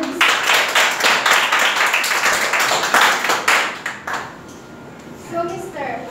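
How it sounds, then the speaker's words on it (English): An audience claps for a guest speaker at a panel discussion, a dense burst of applause that fills the first four seconds before thinning into scattered claps as it fades. "Can you please give a round of applause to our guest speaker?"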